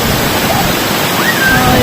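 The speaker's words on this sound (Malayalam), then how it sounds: "ആടിപ്പൊളി വെള്ളച്ചാട്ടം." A waterfall inside a forest gives a loud, close, steady rushing roar of falling water that fills the whole short moment without a break.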